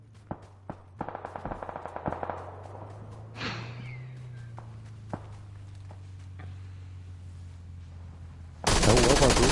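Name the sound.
gunfire in a video game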